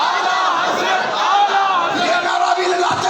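A crowd chants a religious slogan in unison at a gathering, loud rhythmic massed voices filling the space continuously.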